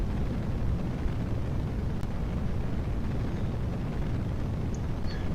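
A rocket flies manually in Kerbal Space Program, climbing through the cloud layer at high speed, a dense, steady roaring rumble that stays loud and unbroken throughout, with no voices.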